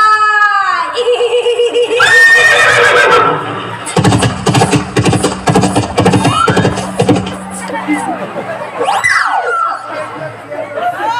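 A horse whinnies loudly at the start in a rural Marathi village comedy scene, followed by a noisy crowd chattering, shouting and cheering.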